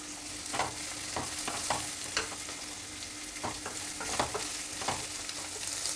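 Onions half-fried in a pan for a chilli sabji hiss in a steady, moderate sizzle, broken by regular scraping taps of a spatula stirring them.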